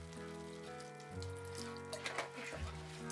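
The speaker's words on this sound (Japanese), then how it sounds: "ちょっとだけ水足します。" A small splash of water is poured into a pot of simmering dried daikon strips made from saved radish peels with soy meat, a brief, soft trickle over a quiet kitchen with a faint steady tone underneath.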